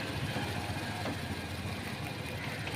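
A Volkswagen Vento 1.6 engine idles roughly, knocking and misfiring with one cylinder not firing. It is a steady, close, continuous mechanical drone with no voices.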